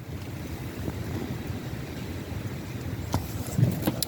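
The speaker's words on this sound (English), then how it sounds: "It gets too crazy windy out here." Strong outdoor wind roars steadily as a dense, low rumble throughout, with a few brief gusts near the end and no talking.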